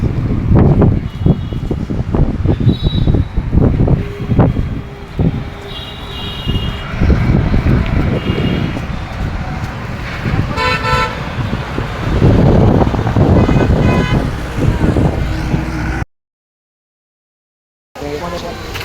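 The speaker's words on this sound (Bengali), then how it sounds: "দেখা গেছে কি বাতাস, মানে অনেক বাতাস, অনেক বাতাস" Heavy wind buffets the microphone with rumbling gusts, mixed with passing traffic and occasional horn toots, while people talk; it cuts out briefly near the end.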